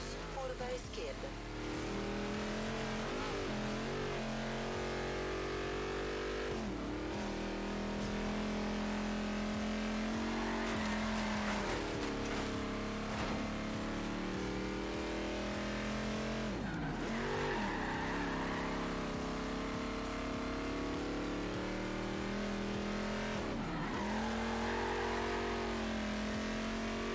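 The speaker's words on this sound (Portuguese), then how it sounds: "Tentei fazer um driftzinho aqui." Car engine revving hard and sweeping up and down in pitch during a drift in the racing game Forza Horizon 3, loud and continuous, with a voice talking over it.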